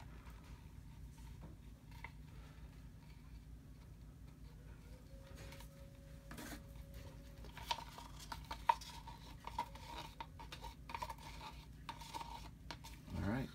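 Acrylic pour paint being stirred in a cup, a quiet scraping and light tapping against the cup that grows more audible toward the end, with small clinks and faint room hum underneath.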